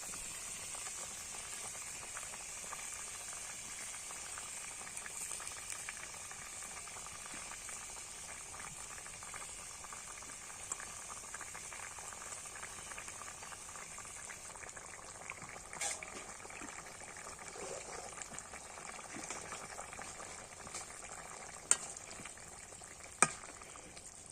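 Bata fish curry with pumpkin and potato bubbling in a pan, a steady low simmer and sizzle running throughout with faint stirring and a couple of sharp utensil clicks near the end.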